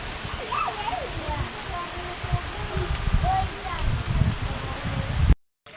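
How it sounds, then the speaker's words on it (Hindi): Heavy rain pours down in a Sindh, Pakistan village in a steady, dense hiss, with faint voices and scattered background sounds underneath before it cuts off abruptly. "देखो कितनी तेज बारिश आ गई है"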